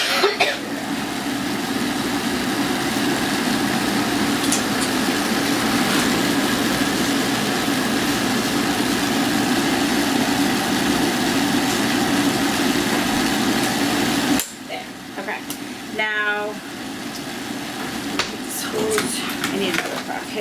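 A Rainbow vacuum cleaner runs loud and close with a steady, broad whirring drone, then shuts off near the end, leaving quiet handling noises and someone talking.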